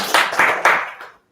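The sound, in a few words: audience clapping to welcome judge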